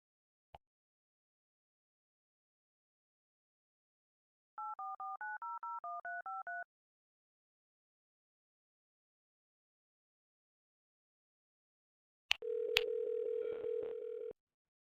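An automated phone bot dialing out: a single click, then a quick run of about a dozen DTMF keypad tones, a long silence, and finally a loud steady line tone after a couple of sharp clicks.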